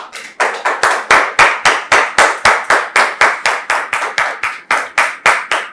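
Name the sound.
congregation applauding the pastor's arrival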